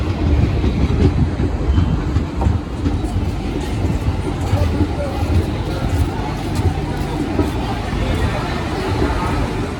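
Garib Rath special train running on rails between Anand Vihar and Saharsa, a steady loud rumble with rhythmic clickety-clack and a faint murmur of people in the background throughout.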